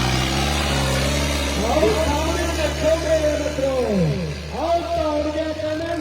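Tractor engine running steadily at a tractor pulling competition ground in Chamkaur Sahib, a continuous low drone with pitch sweeping up and down as it revs, loud and close, with crowd noise and a voice over a loudspeaker.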